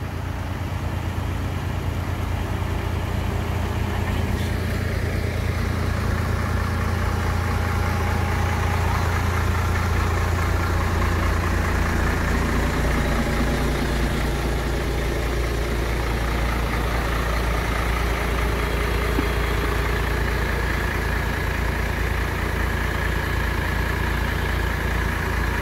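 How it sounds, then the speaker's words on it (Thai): A farm tractor engine runs steadily at idle after rain, a loud continuous low rumble that shifts slightly in pitch partway through. "เอารถไถมา"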